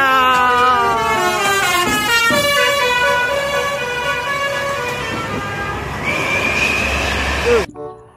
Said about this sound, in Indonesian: kali ini ada bus Bristar teman-teman